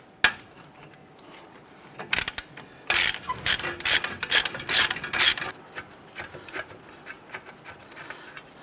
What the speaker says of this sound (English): I'm going to go ahead and finish removing those 3 bolts